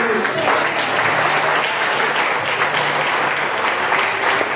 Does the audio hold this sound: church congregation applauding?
yes